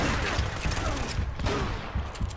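Rapid gunfire from a shotgun and other weapons in the video game Uncharted: Drake's Fortune, a dense run of loud blasts and impacts over game noise, with a voice briefly audible underneath.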